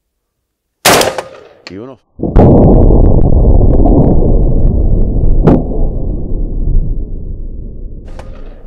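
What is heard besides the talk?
two gunshots fired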